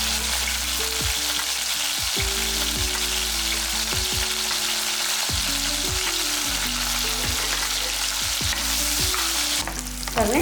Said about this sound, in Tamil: இப்போ இந்த எண்ணெய்க்குள்ளே போட்டு பொரிச்சு எடுத்துக்கலாம்.